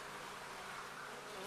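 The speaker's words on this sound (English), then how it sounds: "Again, tons of activity in the hive." Honeybees buzz inside a busy hive in an apiary nucleus colony, a dense, continuous hum that stays steady and close throughout.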